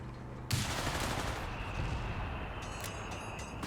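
Anti-tank gun fire in a Company of Heroes 3 4v4 battle: a sudden loud blast opens a broad, rumbling roar that lingers under continuous battlefield noise, with sharper crackling shots joining near the end.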